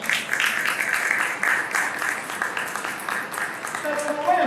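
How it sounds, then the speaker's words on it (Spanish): Steady audience applause from a crowd at a Spanish-language talk on exponential innovation, a continuous dense patter of many hands clapping for several seconds at moderate distance. "Vamos a dar un fuerte aplauso."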